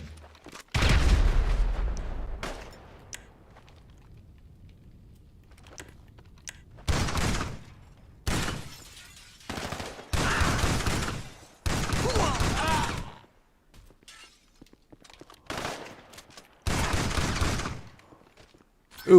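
Shotgun fire in GTA 5 Online: loud, heavy bursts of blasts come in separate clusters with short silent gaps between them.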